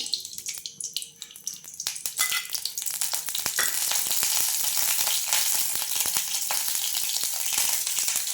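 Ghee heating in a kadhai for a simple tempering, a steady close sizzle and spatter that builds after the first couple of seconds, with scattered clicks and small utensil knocks at the start.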